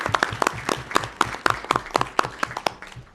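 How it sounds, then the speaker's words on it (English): Audience at a school board meeting giving a round of applause, a modest group of clappers heard close, with individual claps standing out in a quick uneven rhythm. "I think we need to give Musab a round of applause"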